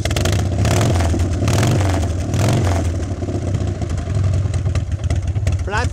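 A 1996 Harley-Davidson Wide Glide in scratch-and-dent condition, its carburetor suspected of an intake air leak, runs with a steady, loud, low engine rumble throughout, with a voice heard near the end.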